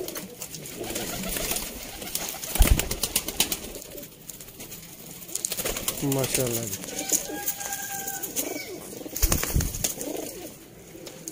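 Sialkoti rooftop pigeons coo in soft, rolling bursts close by, mixed with occasional wing flutters and handling noise, while someone talks over them.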